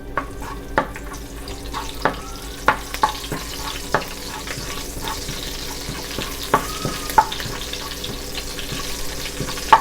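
Cut chillies and fennel seeds frying in oil for a Tamil-style mutton curry, giving a low steady hiss scattered with sharp crackles and pops.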